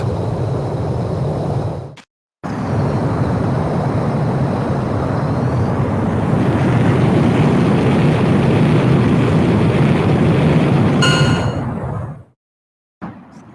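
Fighter jet roaring down the runway for takeoff in the Ace Combat X video game: a loud, steady engine rumble builds and swells for about ten seconds between brief silent cuts, with no voices.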